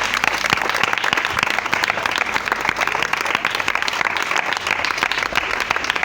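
A church congregation applauds in praise of the Lord, a dense, steady clapping that fills the room throughout with no break.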